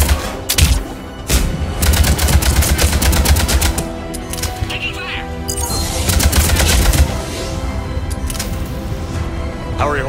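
Rapid bursts of automatic gunfire from a Mass Effect sci-fi firefight crackle densely and loudly throughout, with repeated sharp volleys over a rumbling low-end bed of battle noise, and a voice briefly audible among the shots.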